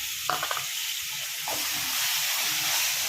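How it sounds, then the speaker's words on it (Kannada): Chopped tomatoes hit a hot pan for egg bhurji, with a few quick spatula clinks at first and then a loud, continuous sizzling hiss that builds and holds, close up, with no talking. "ಟೊಮೆಟೊ ಹಾಕ್ತಾಯಿದ್ದೀನಿ"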